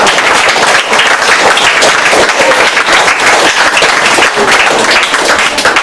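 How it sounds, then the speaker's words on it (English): An elementary school audience claps for student journalism award nominees in a sustained, dense round of applause that fills the room evenly, loud and steady throughout with no talking. "Let's have a round of applause for all of our nominees."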